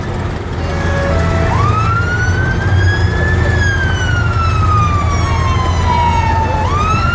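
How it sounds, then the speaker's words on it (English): A fire engine siren wails loudly in a vehicle parade on a high street before a Christmas lights switch-on, its tone sliding up and down in long sweeps over a rumbling engine. "That's the fire engine."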